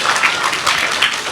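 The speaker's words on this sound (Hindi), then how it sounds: "बाकी सभी इनके लिए जोर से तालियां बजाकर स्वागत करो" A group of children clapping to welcome newcomers at a kids' summer camp, a dense, steady patter of many small hands at close range with slight swells in intensity.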